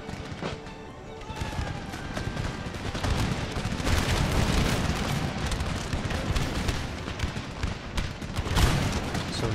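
Cannon and musket volleys from an Empire: Total War battle, booming repeatedly in dense, overlapping bursts that swell into a sustained roar before scattered loud shots near the end.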